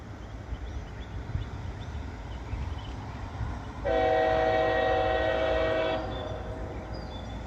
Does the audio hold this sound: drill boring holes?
no